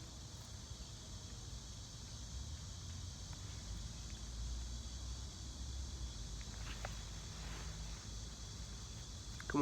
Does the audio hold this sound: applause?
no